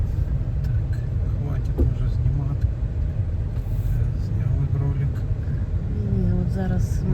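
A car drives along a road on Maui, its steady low engine and tyre rumble running throughout, with people talking over it inside the vehicle.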